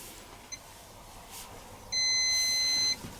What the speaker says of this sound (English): The beeper controls both the beeper for changing the options and the end beeper too.